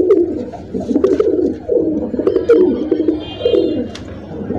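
Highflyer pigeons coo close by in repeated low, throaty rolling phrases, several overlapping in an uneven rhythm, with small clicks and rustles in the background.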